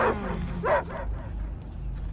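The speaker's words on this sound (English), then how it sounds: "I hear only barking." Dogs barking in the action video game Marvel's Guardians of the Galaxy, two or three close, loud yelping barks at the start followed by a quieter stretch with low background noise.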